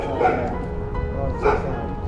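Tiny puppy whimpering in two short, high whines close by, over a low rumbling background.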